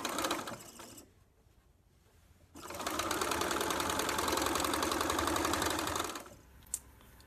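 Sewing machine stitching quilt pieces together for a star-crossed canoes quilt, a steady rapid mechanical whir running in two bursts, a short one then a longer sustained run, with a brief click near the end.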